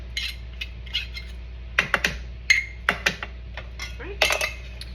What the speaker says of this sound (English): Take the measuring spoon and get the rest of that out.